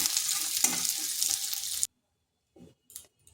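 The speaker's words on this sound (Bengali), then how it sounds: "আর এক থেকে দেড় মিনিট এইভাবে একটু নেড়ে নিচ্ছি" Fish pieces stirred in hot oil in a pan, giving a loud, close, steady sizzle that cuts off abruptly, followed by a few brief quiet clinks.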